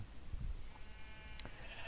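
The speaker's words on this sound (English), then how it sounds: "all those pins are holding sheep." A single short sheep bleat from Minecraft, faint and brief over quiet background noise.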